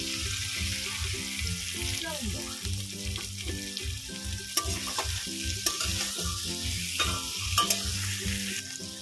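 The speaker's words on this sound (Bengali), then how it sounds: "এবার পনিরটা হালকা করে ভেজে নেব।" Paneer fries in oil and butter in a kadai with a steady close sizzle, broken by scraping stirs and light clinks over a low hum.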